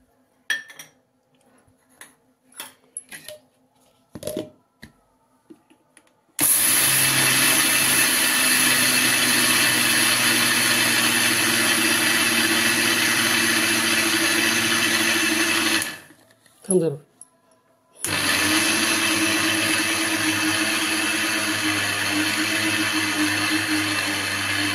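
Kitchen mixer grinder whirring loudly while grinding a chili powder and salt mixture, running steadily for about ten seconds, pausing briefly, then starting again; a few soft handling knocks come before it starts.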